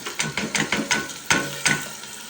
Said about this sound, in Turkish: Ve şimdi mercimeğini veriyorum.